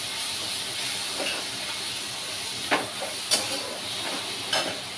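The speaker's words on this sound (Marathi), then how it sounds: "तर आपण छान असं फ्राय करून घेऊ।" Ground spices and two green chillies fry in a pan for paneer matar, making a continuous hiss with occasional sharper crackles and spits, close and moderately loud, with no voices.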